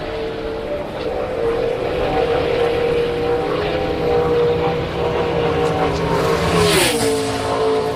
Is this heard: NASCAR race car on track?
yes